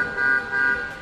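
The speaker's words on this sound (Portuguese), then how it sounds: "e ele tem até buzina." A short electronic car horn tone sounds twice in quick succession, a thin, buzzy beep close by.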